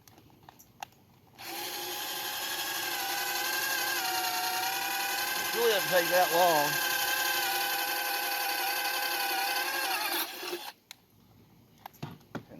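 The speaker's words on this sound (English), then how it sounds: "actually drill the hole" A power drill bores a hole for a sailboat mast step, its steady motor whine running about nine seconds loud and close, with a brief wavering pitch mid-way as the bit bites; someone speaks briefly after it stops.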